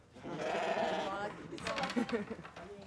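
Sheep bleating on a castle farm in autumn, several loud nearby bleats overlapping in a dense, wavering chorus, with people talking among the flock.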